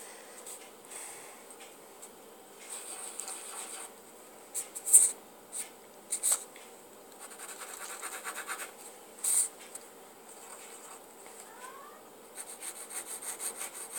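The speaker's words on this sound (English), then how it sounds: "So without further ado, I'm just going to draw." Faint scratching of a pencil or pen drawing on paper, with short strokes and a few louder scrapes over a quiet room, no speech.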